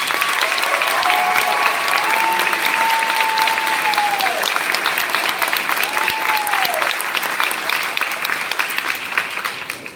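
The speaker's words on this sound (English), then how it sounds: "Let's start the event by giving these kiddos a round of applause for all their accomplishments" A school audience gives a long, steady round of applause for a 5th grade promotion class at the Fields promotion ceremony, dense clapping throughout with a few high whoops rising above it.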